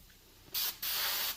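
Aerosol spray paint can sprayed onto a plastic container while making a reclaimed wood sign: two loud, close hissing bursts, a short one followed after a brief pause by a longer sustained spray, with no talk.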